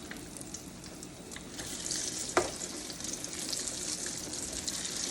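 Eggplant slices fry in a hot skillet with a steady, close sizzle and crackle, one brief sharper clink partway through, no talking.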